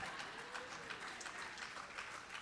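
Audience applause at a Puerto Rico keynote discussion and performance, a steady wash of many hands clapping at moderate loudness throughout, with no voices over it.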